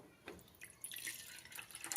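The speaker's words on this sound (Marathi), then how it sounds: "पाणी त्याच्यामध्ये ॲड करूया फक्त आपल्याला साखर विरगळून घ्यायची आहे" Water is poured into a pan of sugar to make syrup for sweet shankarpali, a faint, brief trickle and splash that rises after a quiet start.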